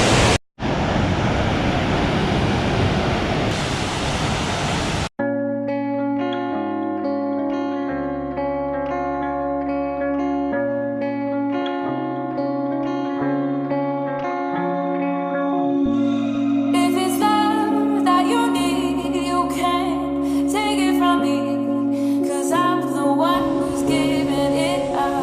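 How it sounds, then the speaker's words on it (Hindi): Rainbow Falls in Meghalaya, northeast India, roars as a loud, dense rush of falling water for about five seconds before it cuts off abruptly and gives way to music. "ये वाटरफॉल ज़रूर डिस्टर्ब करेगी मेरी आवाज़"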